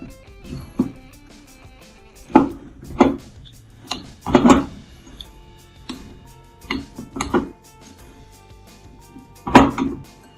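A metal spoon mixing a thick flapjack mixture in a bowl, with irregular scraping and knocking strokes in short bursts separated by quiet pauses.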